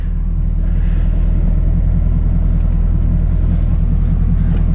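Camaro SS 1LE idling in the snow, its engine a steady low rumble that holds constant and close throughout, with faint wind noise and no talking.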